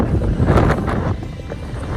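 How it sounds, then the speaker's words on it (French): Strong wind buffets the microphone beside a 149-metre V100 wind turbine in open country, a loud continuous low roar with gusty swells and no speech. "mon dieu il y a du vent"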